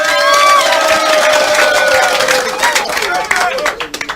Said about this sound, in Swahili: Nataka mchipikie makofi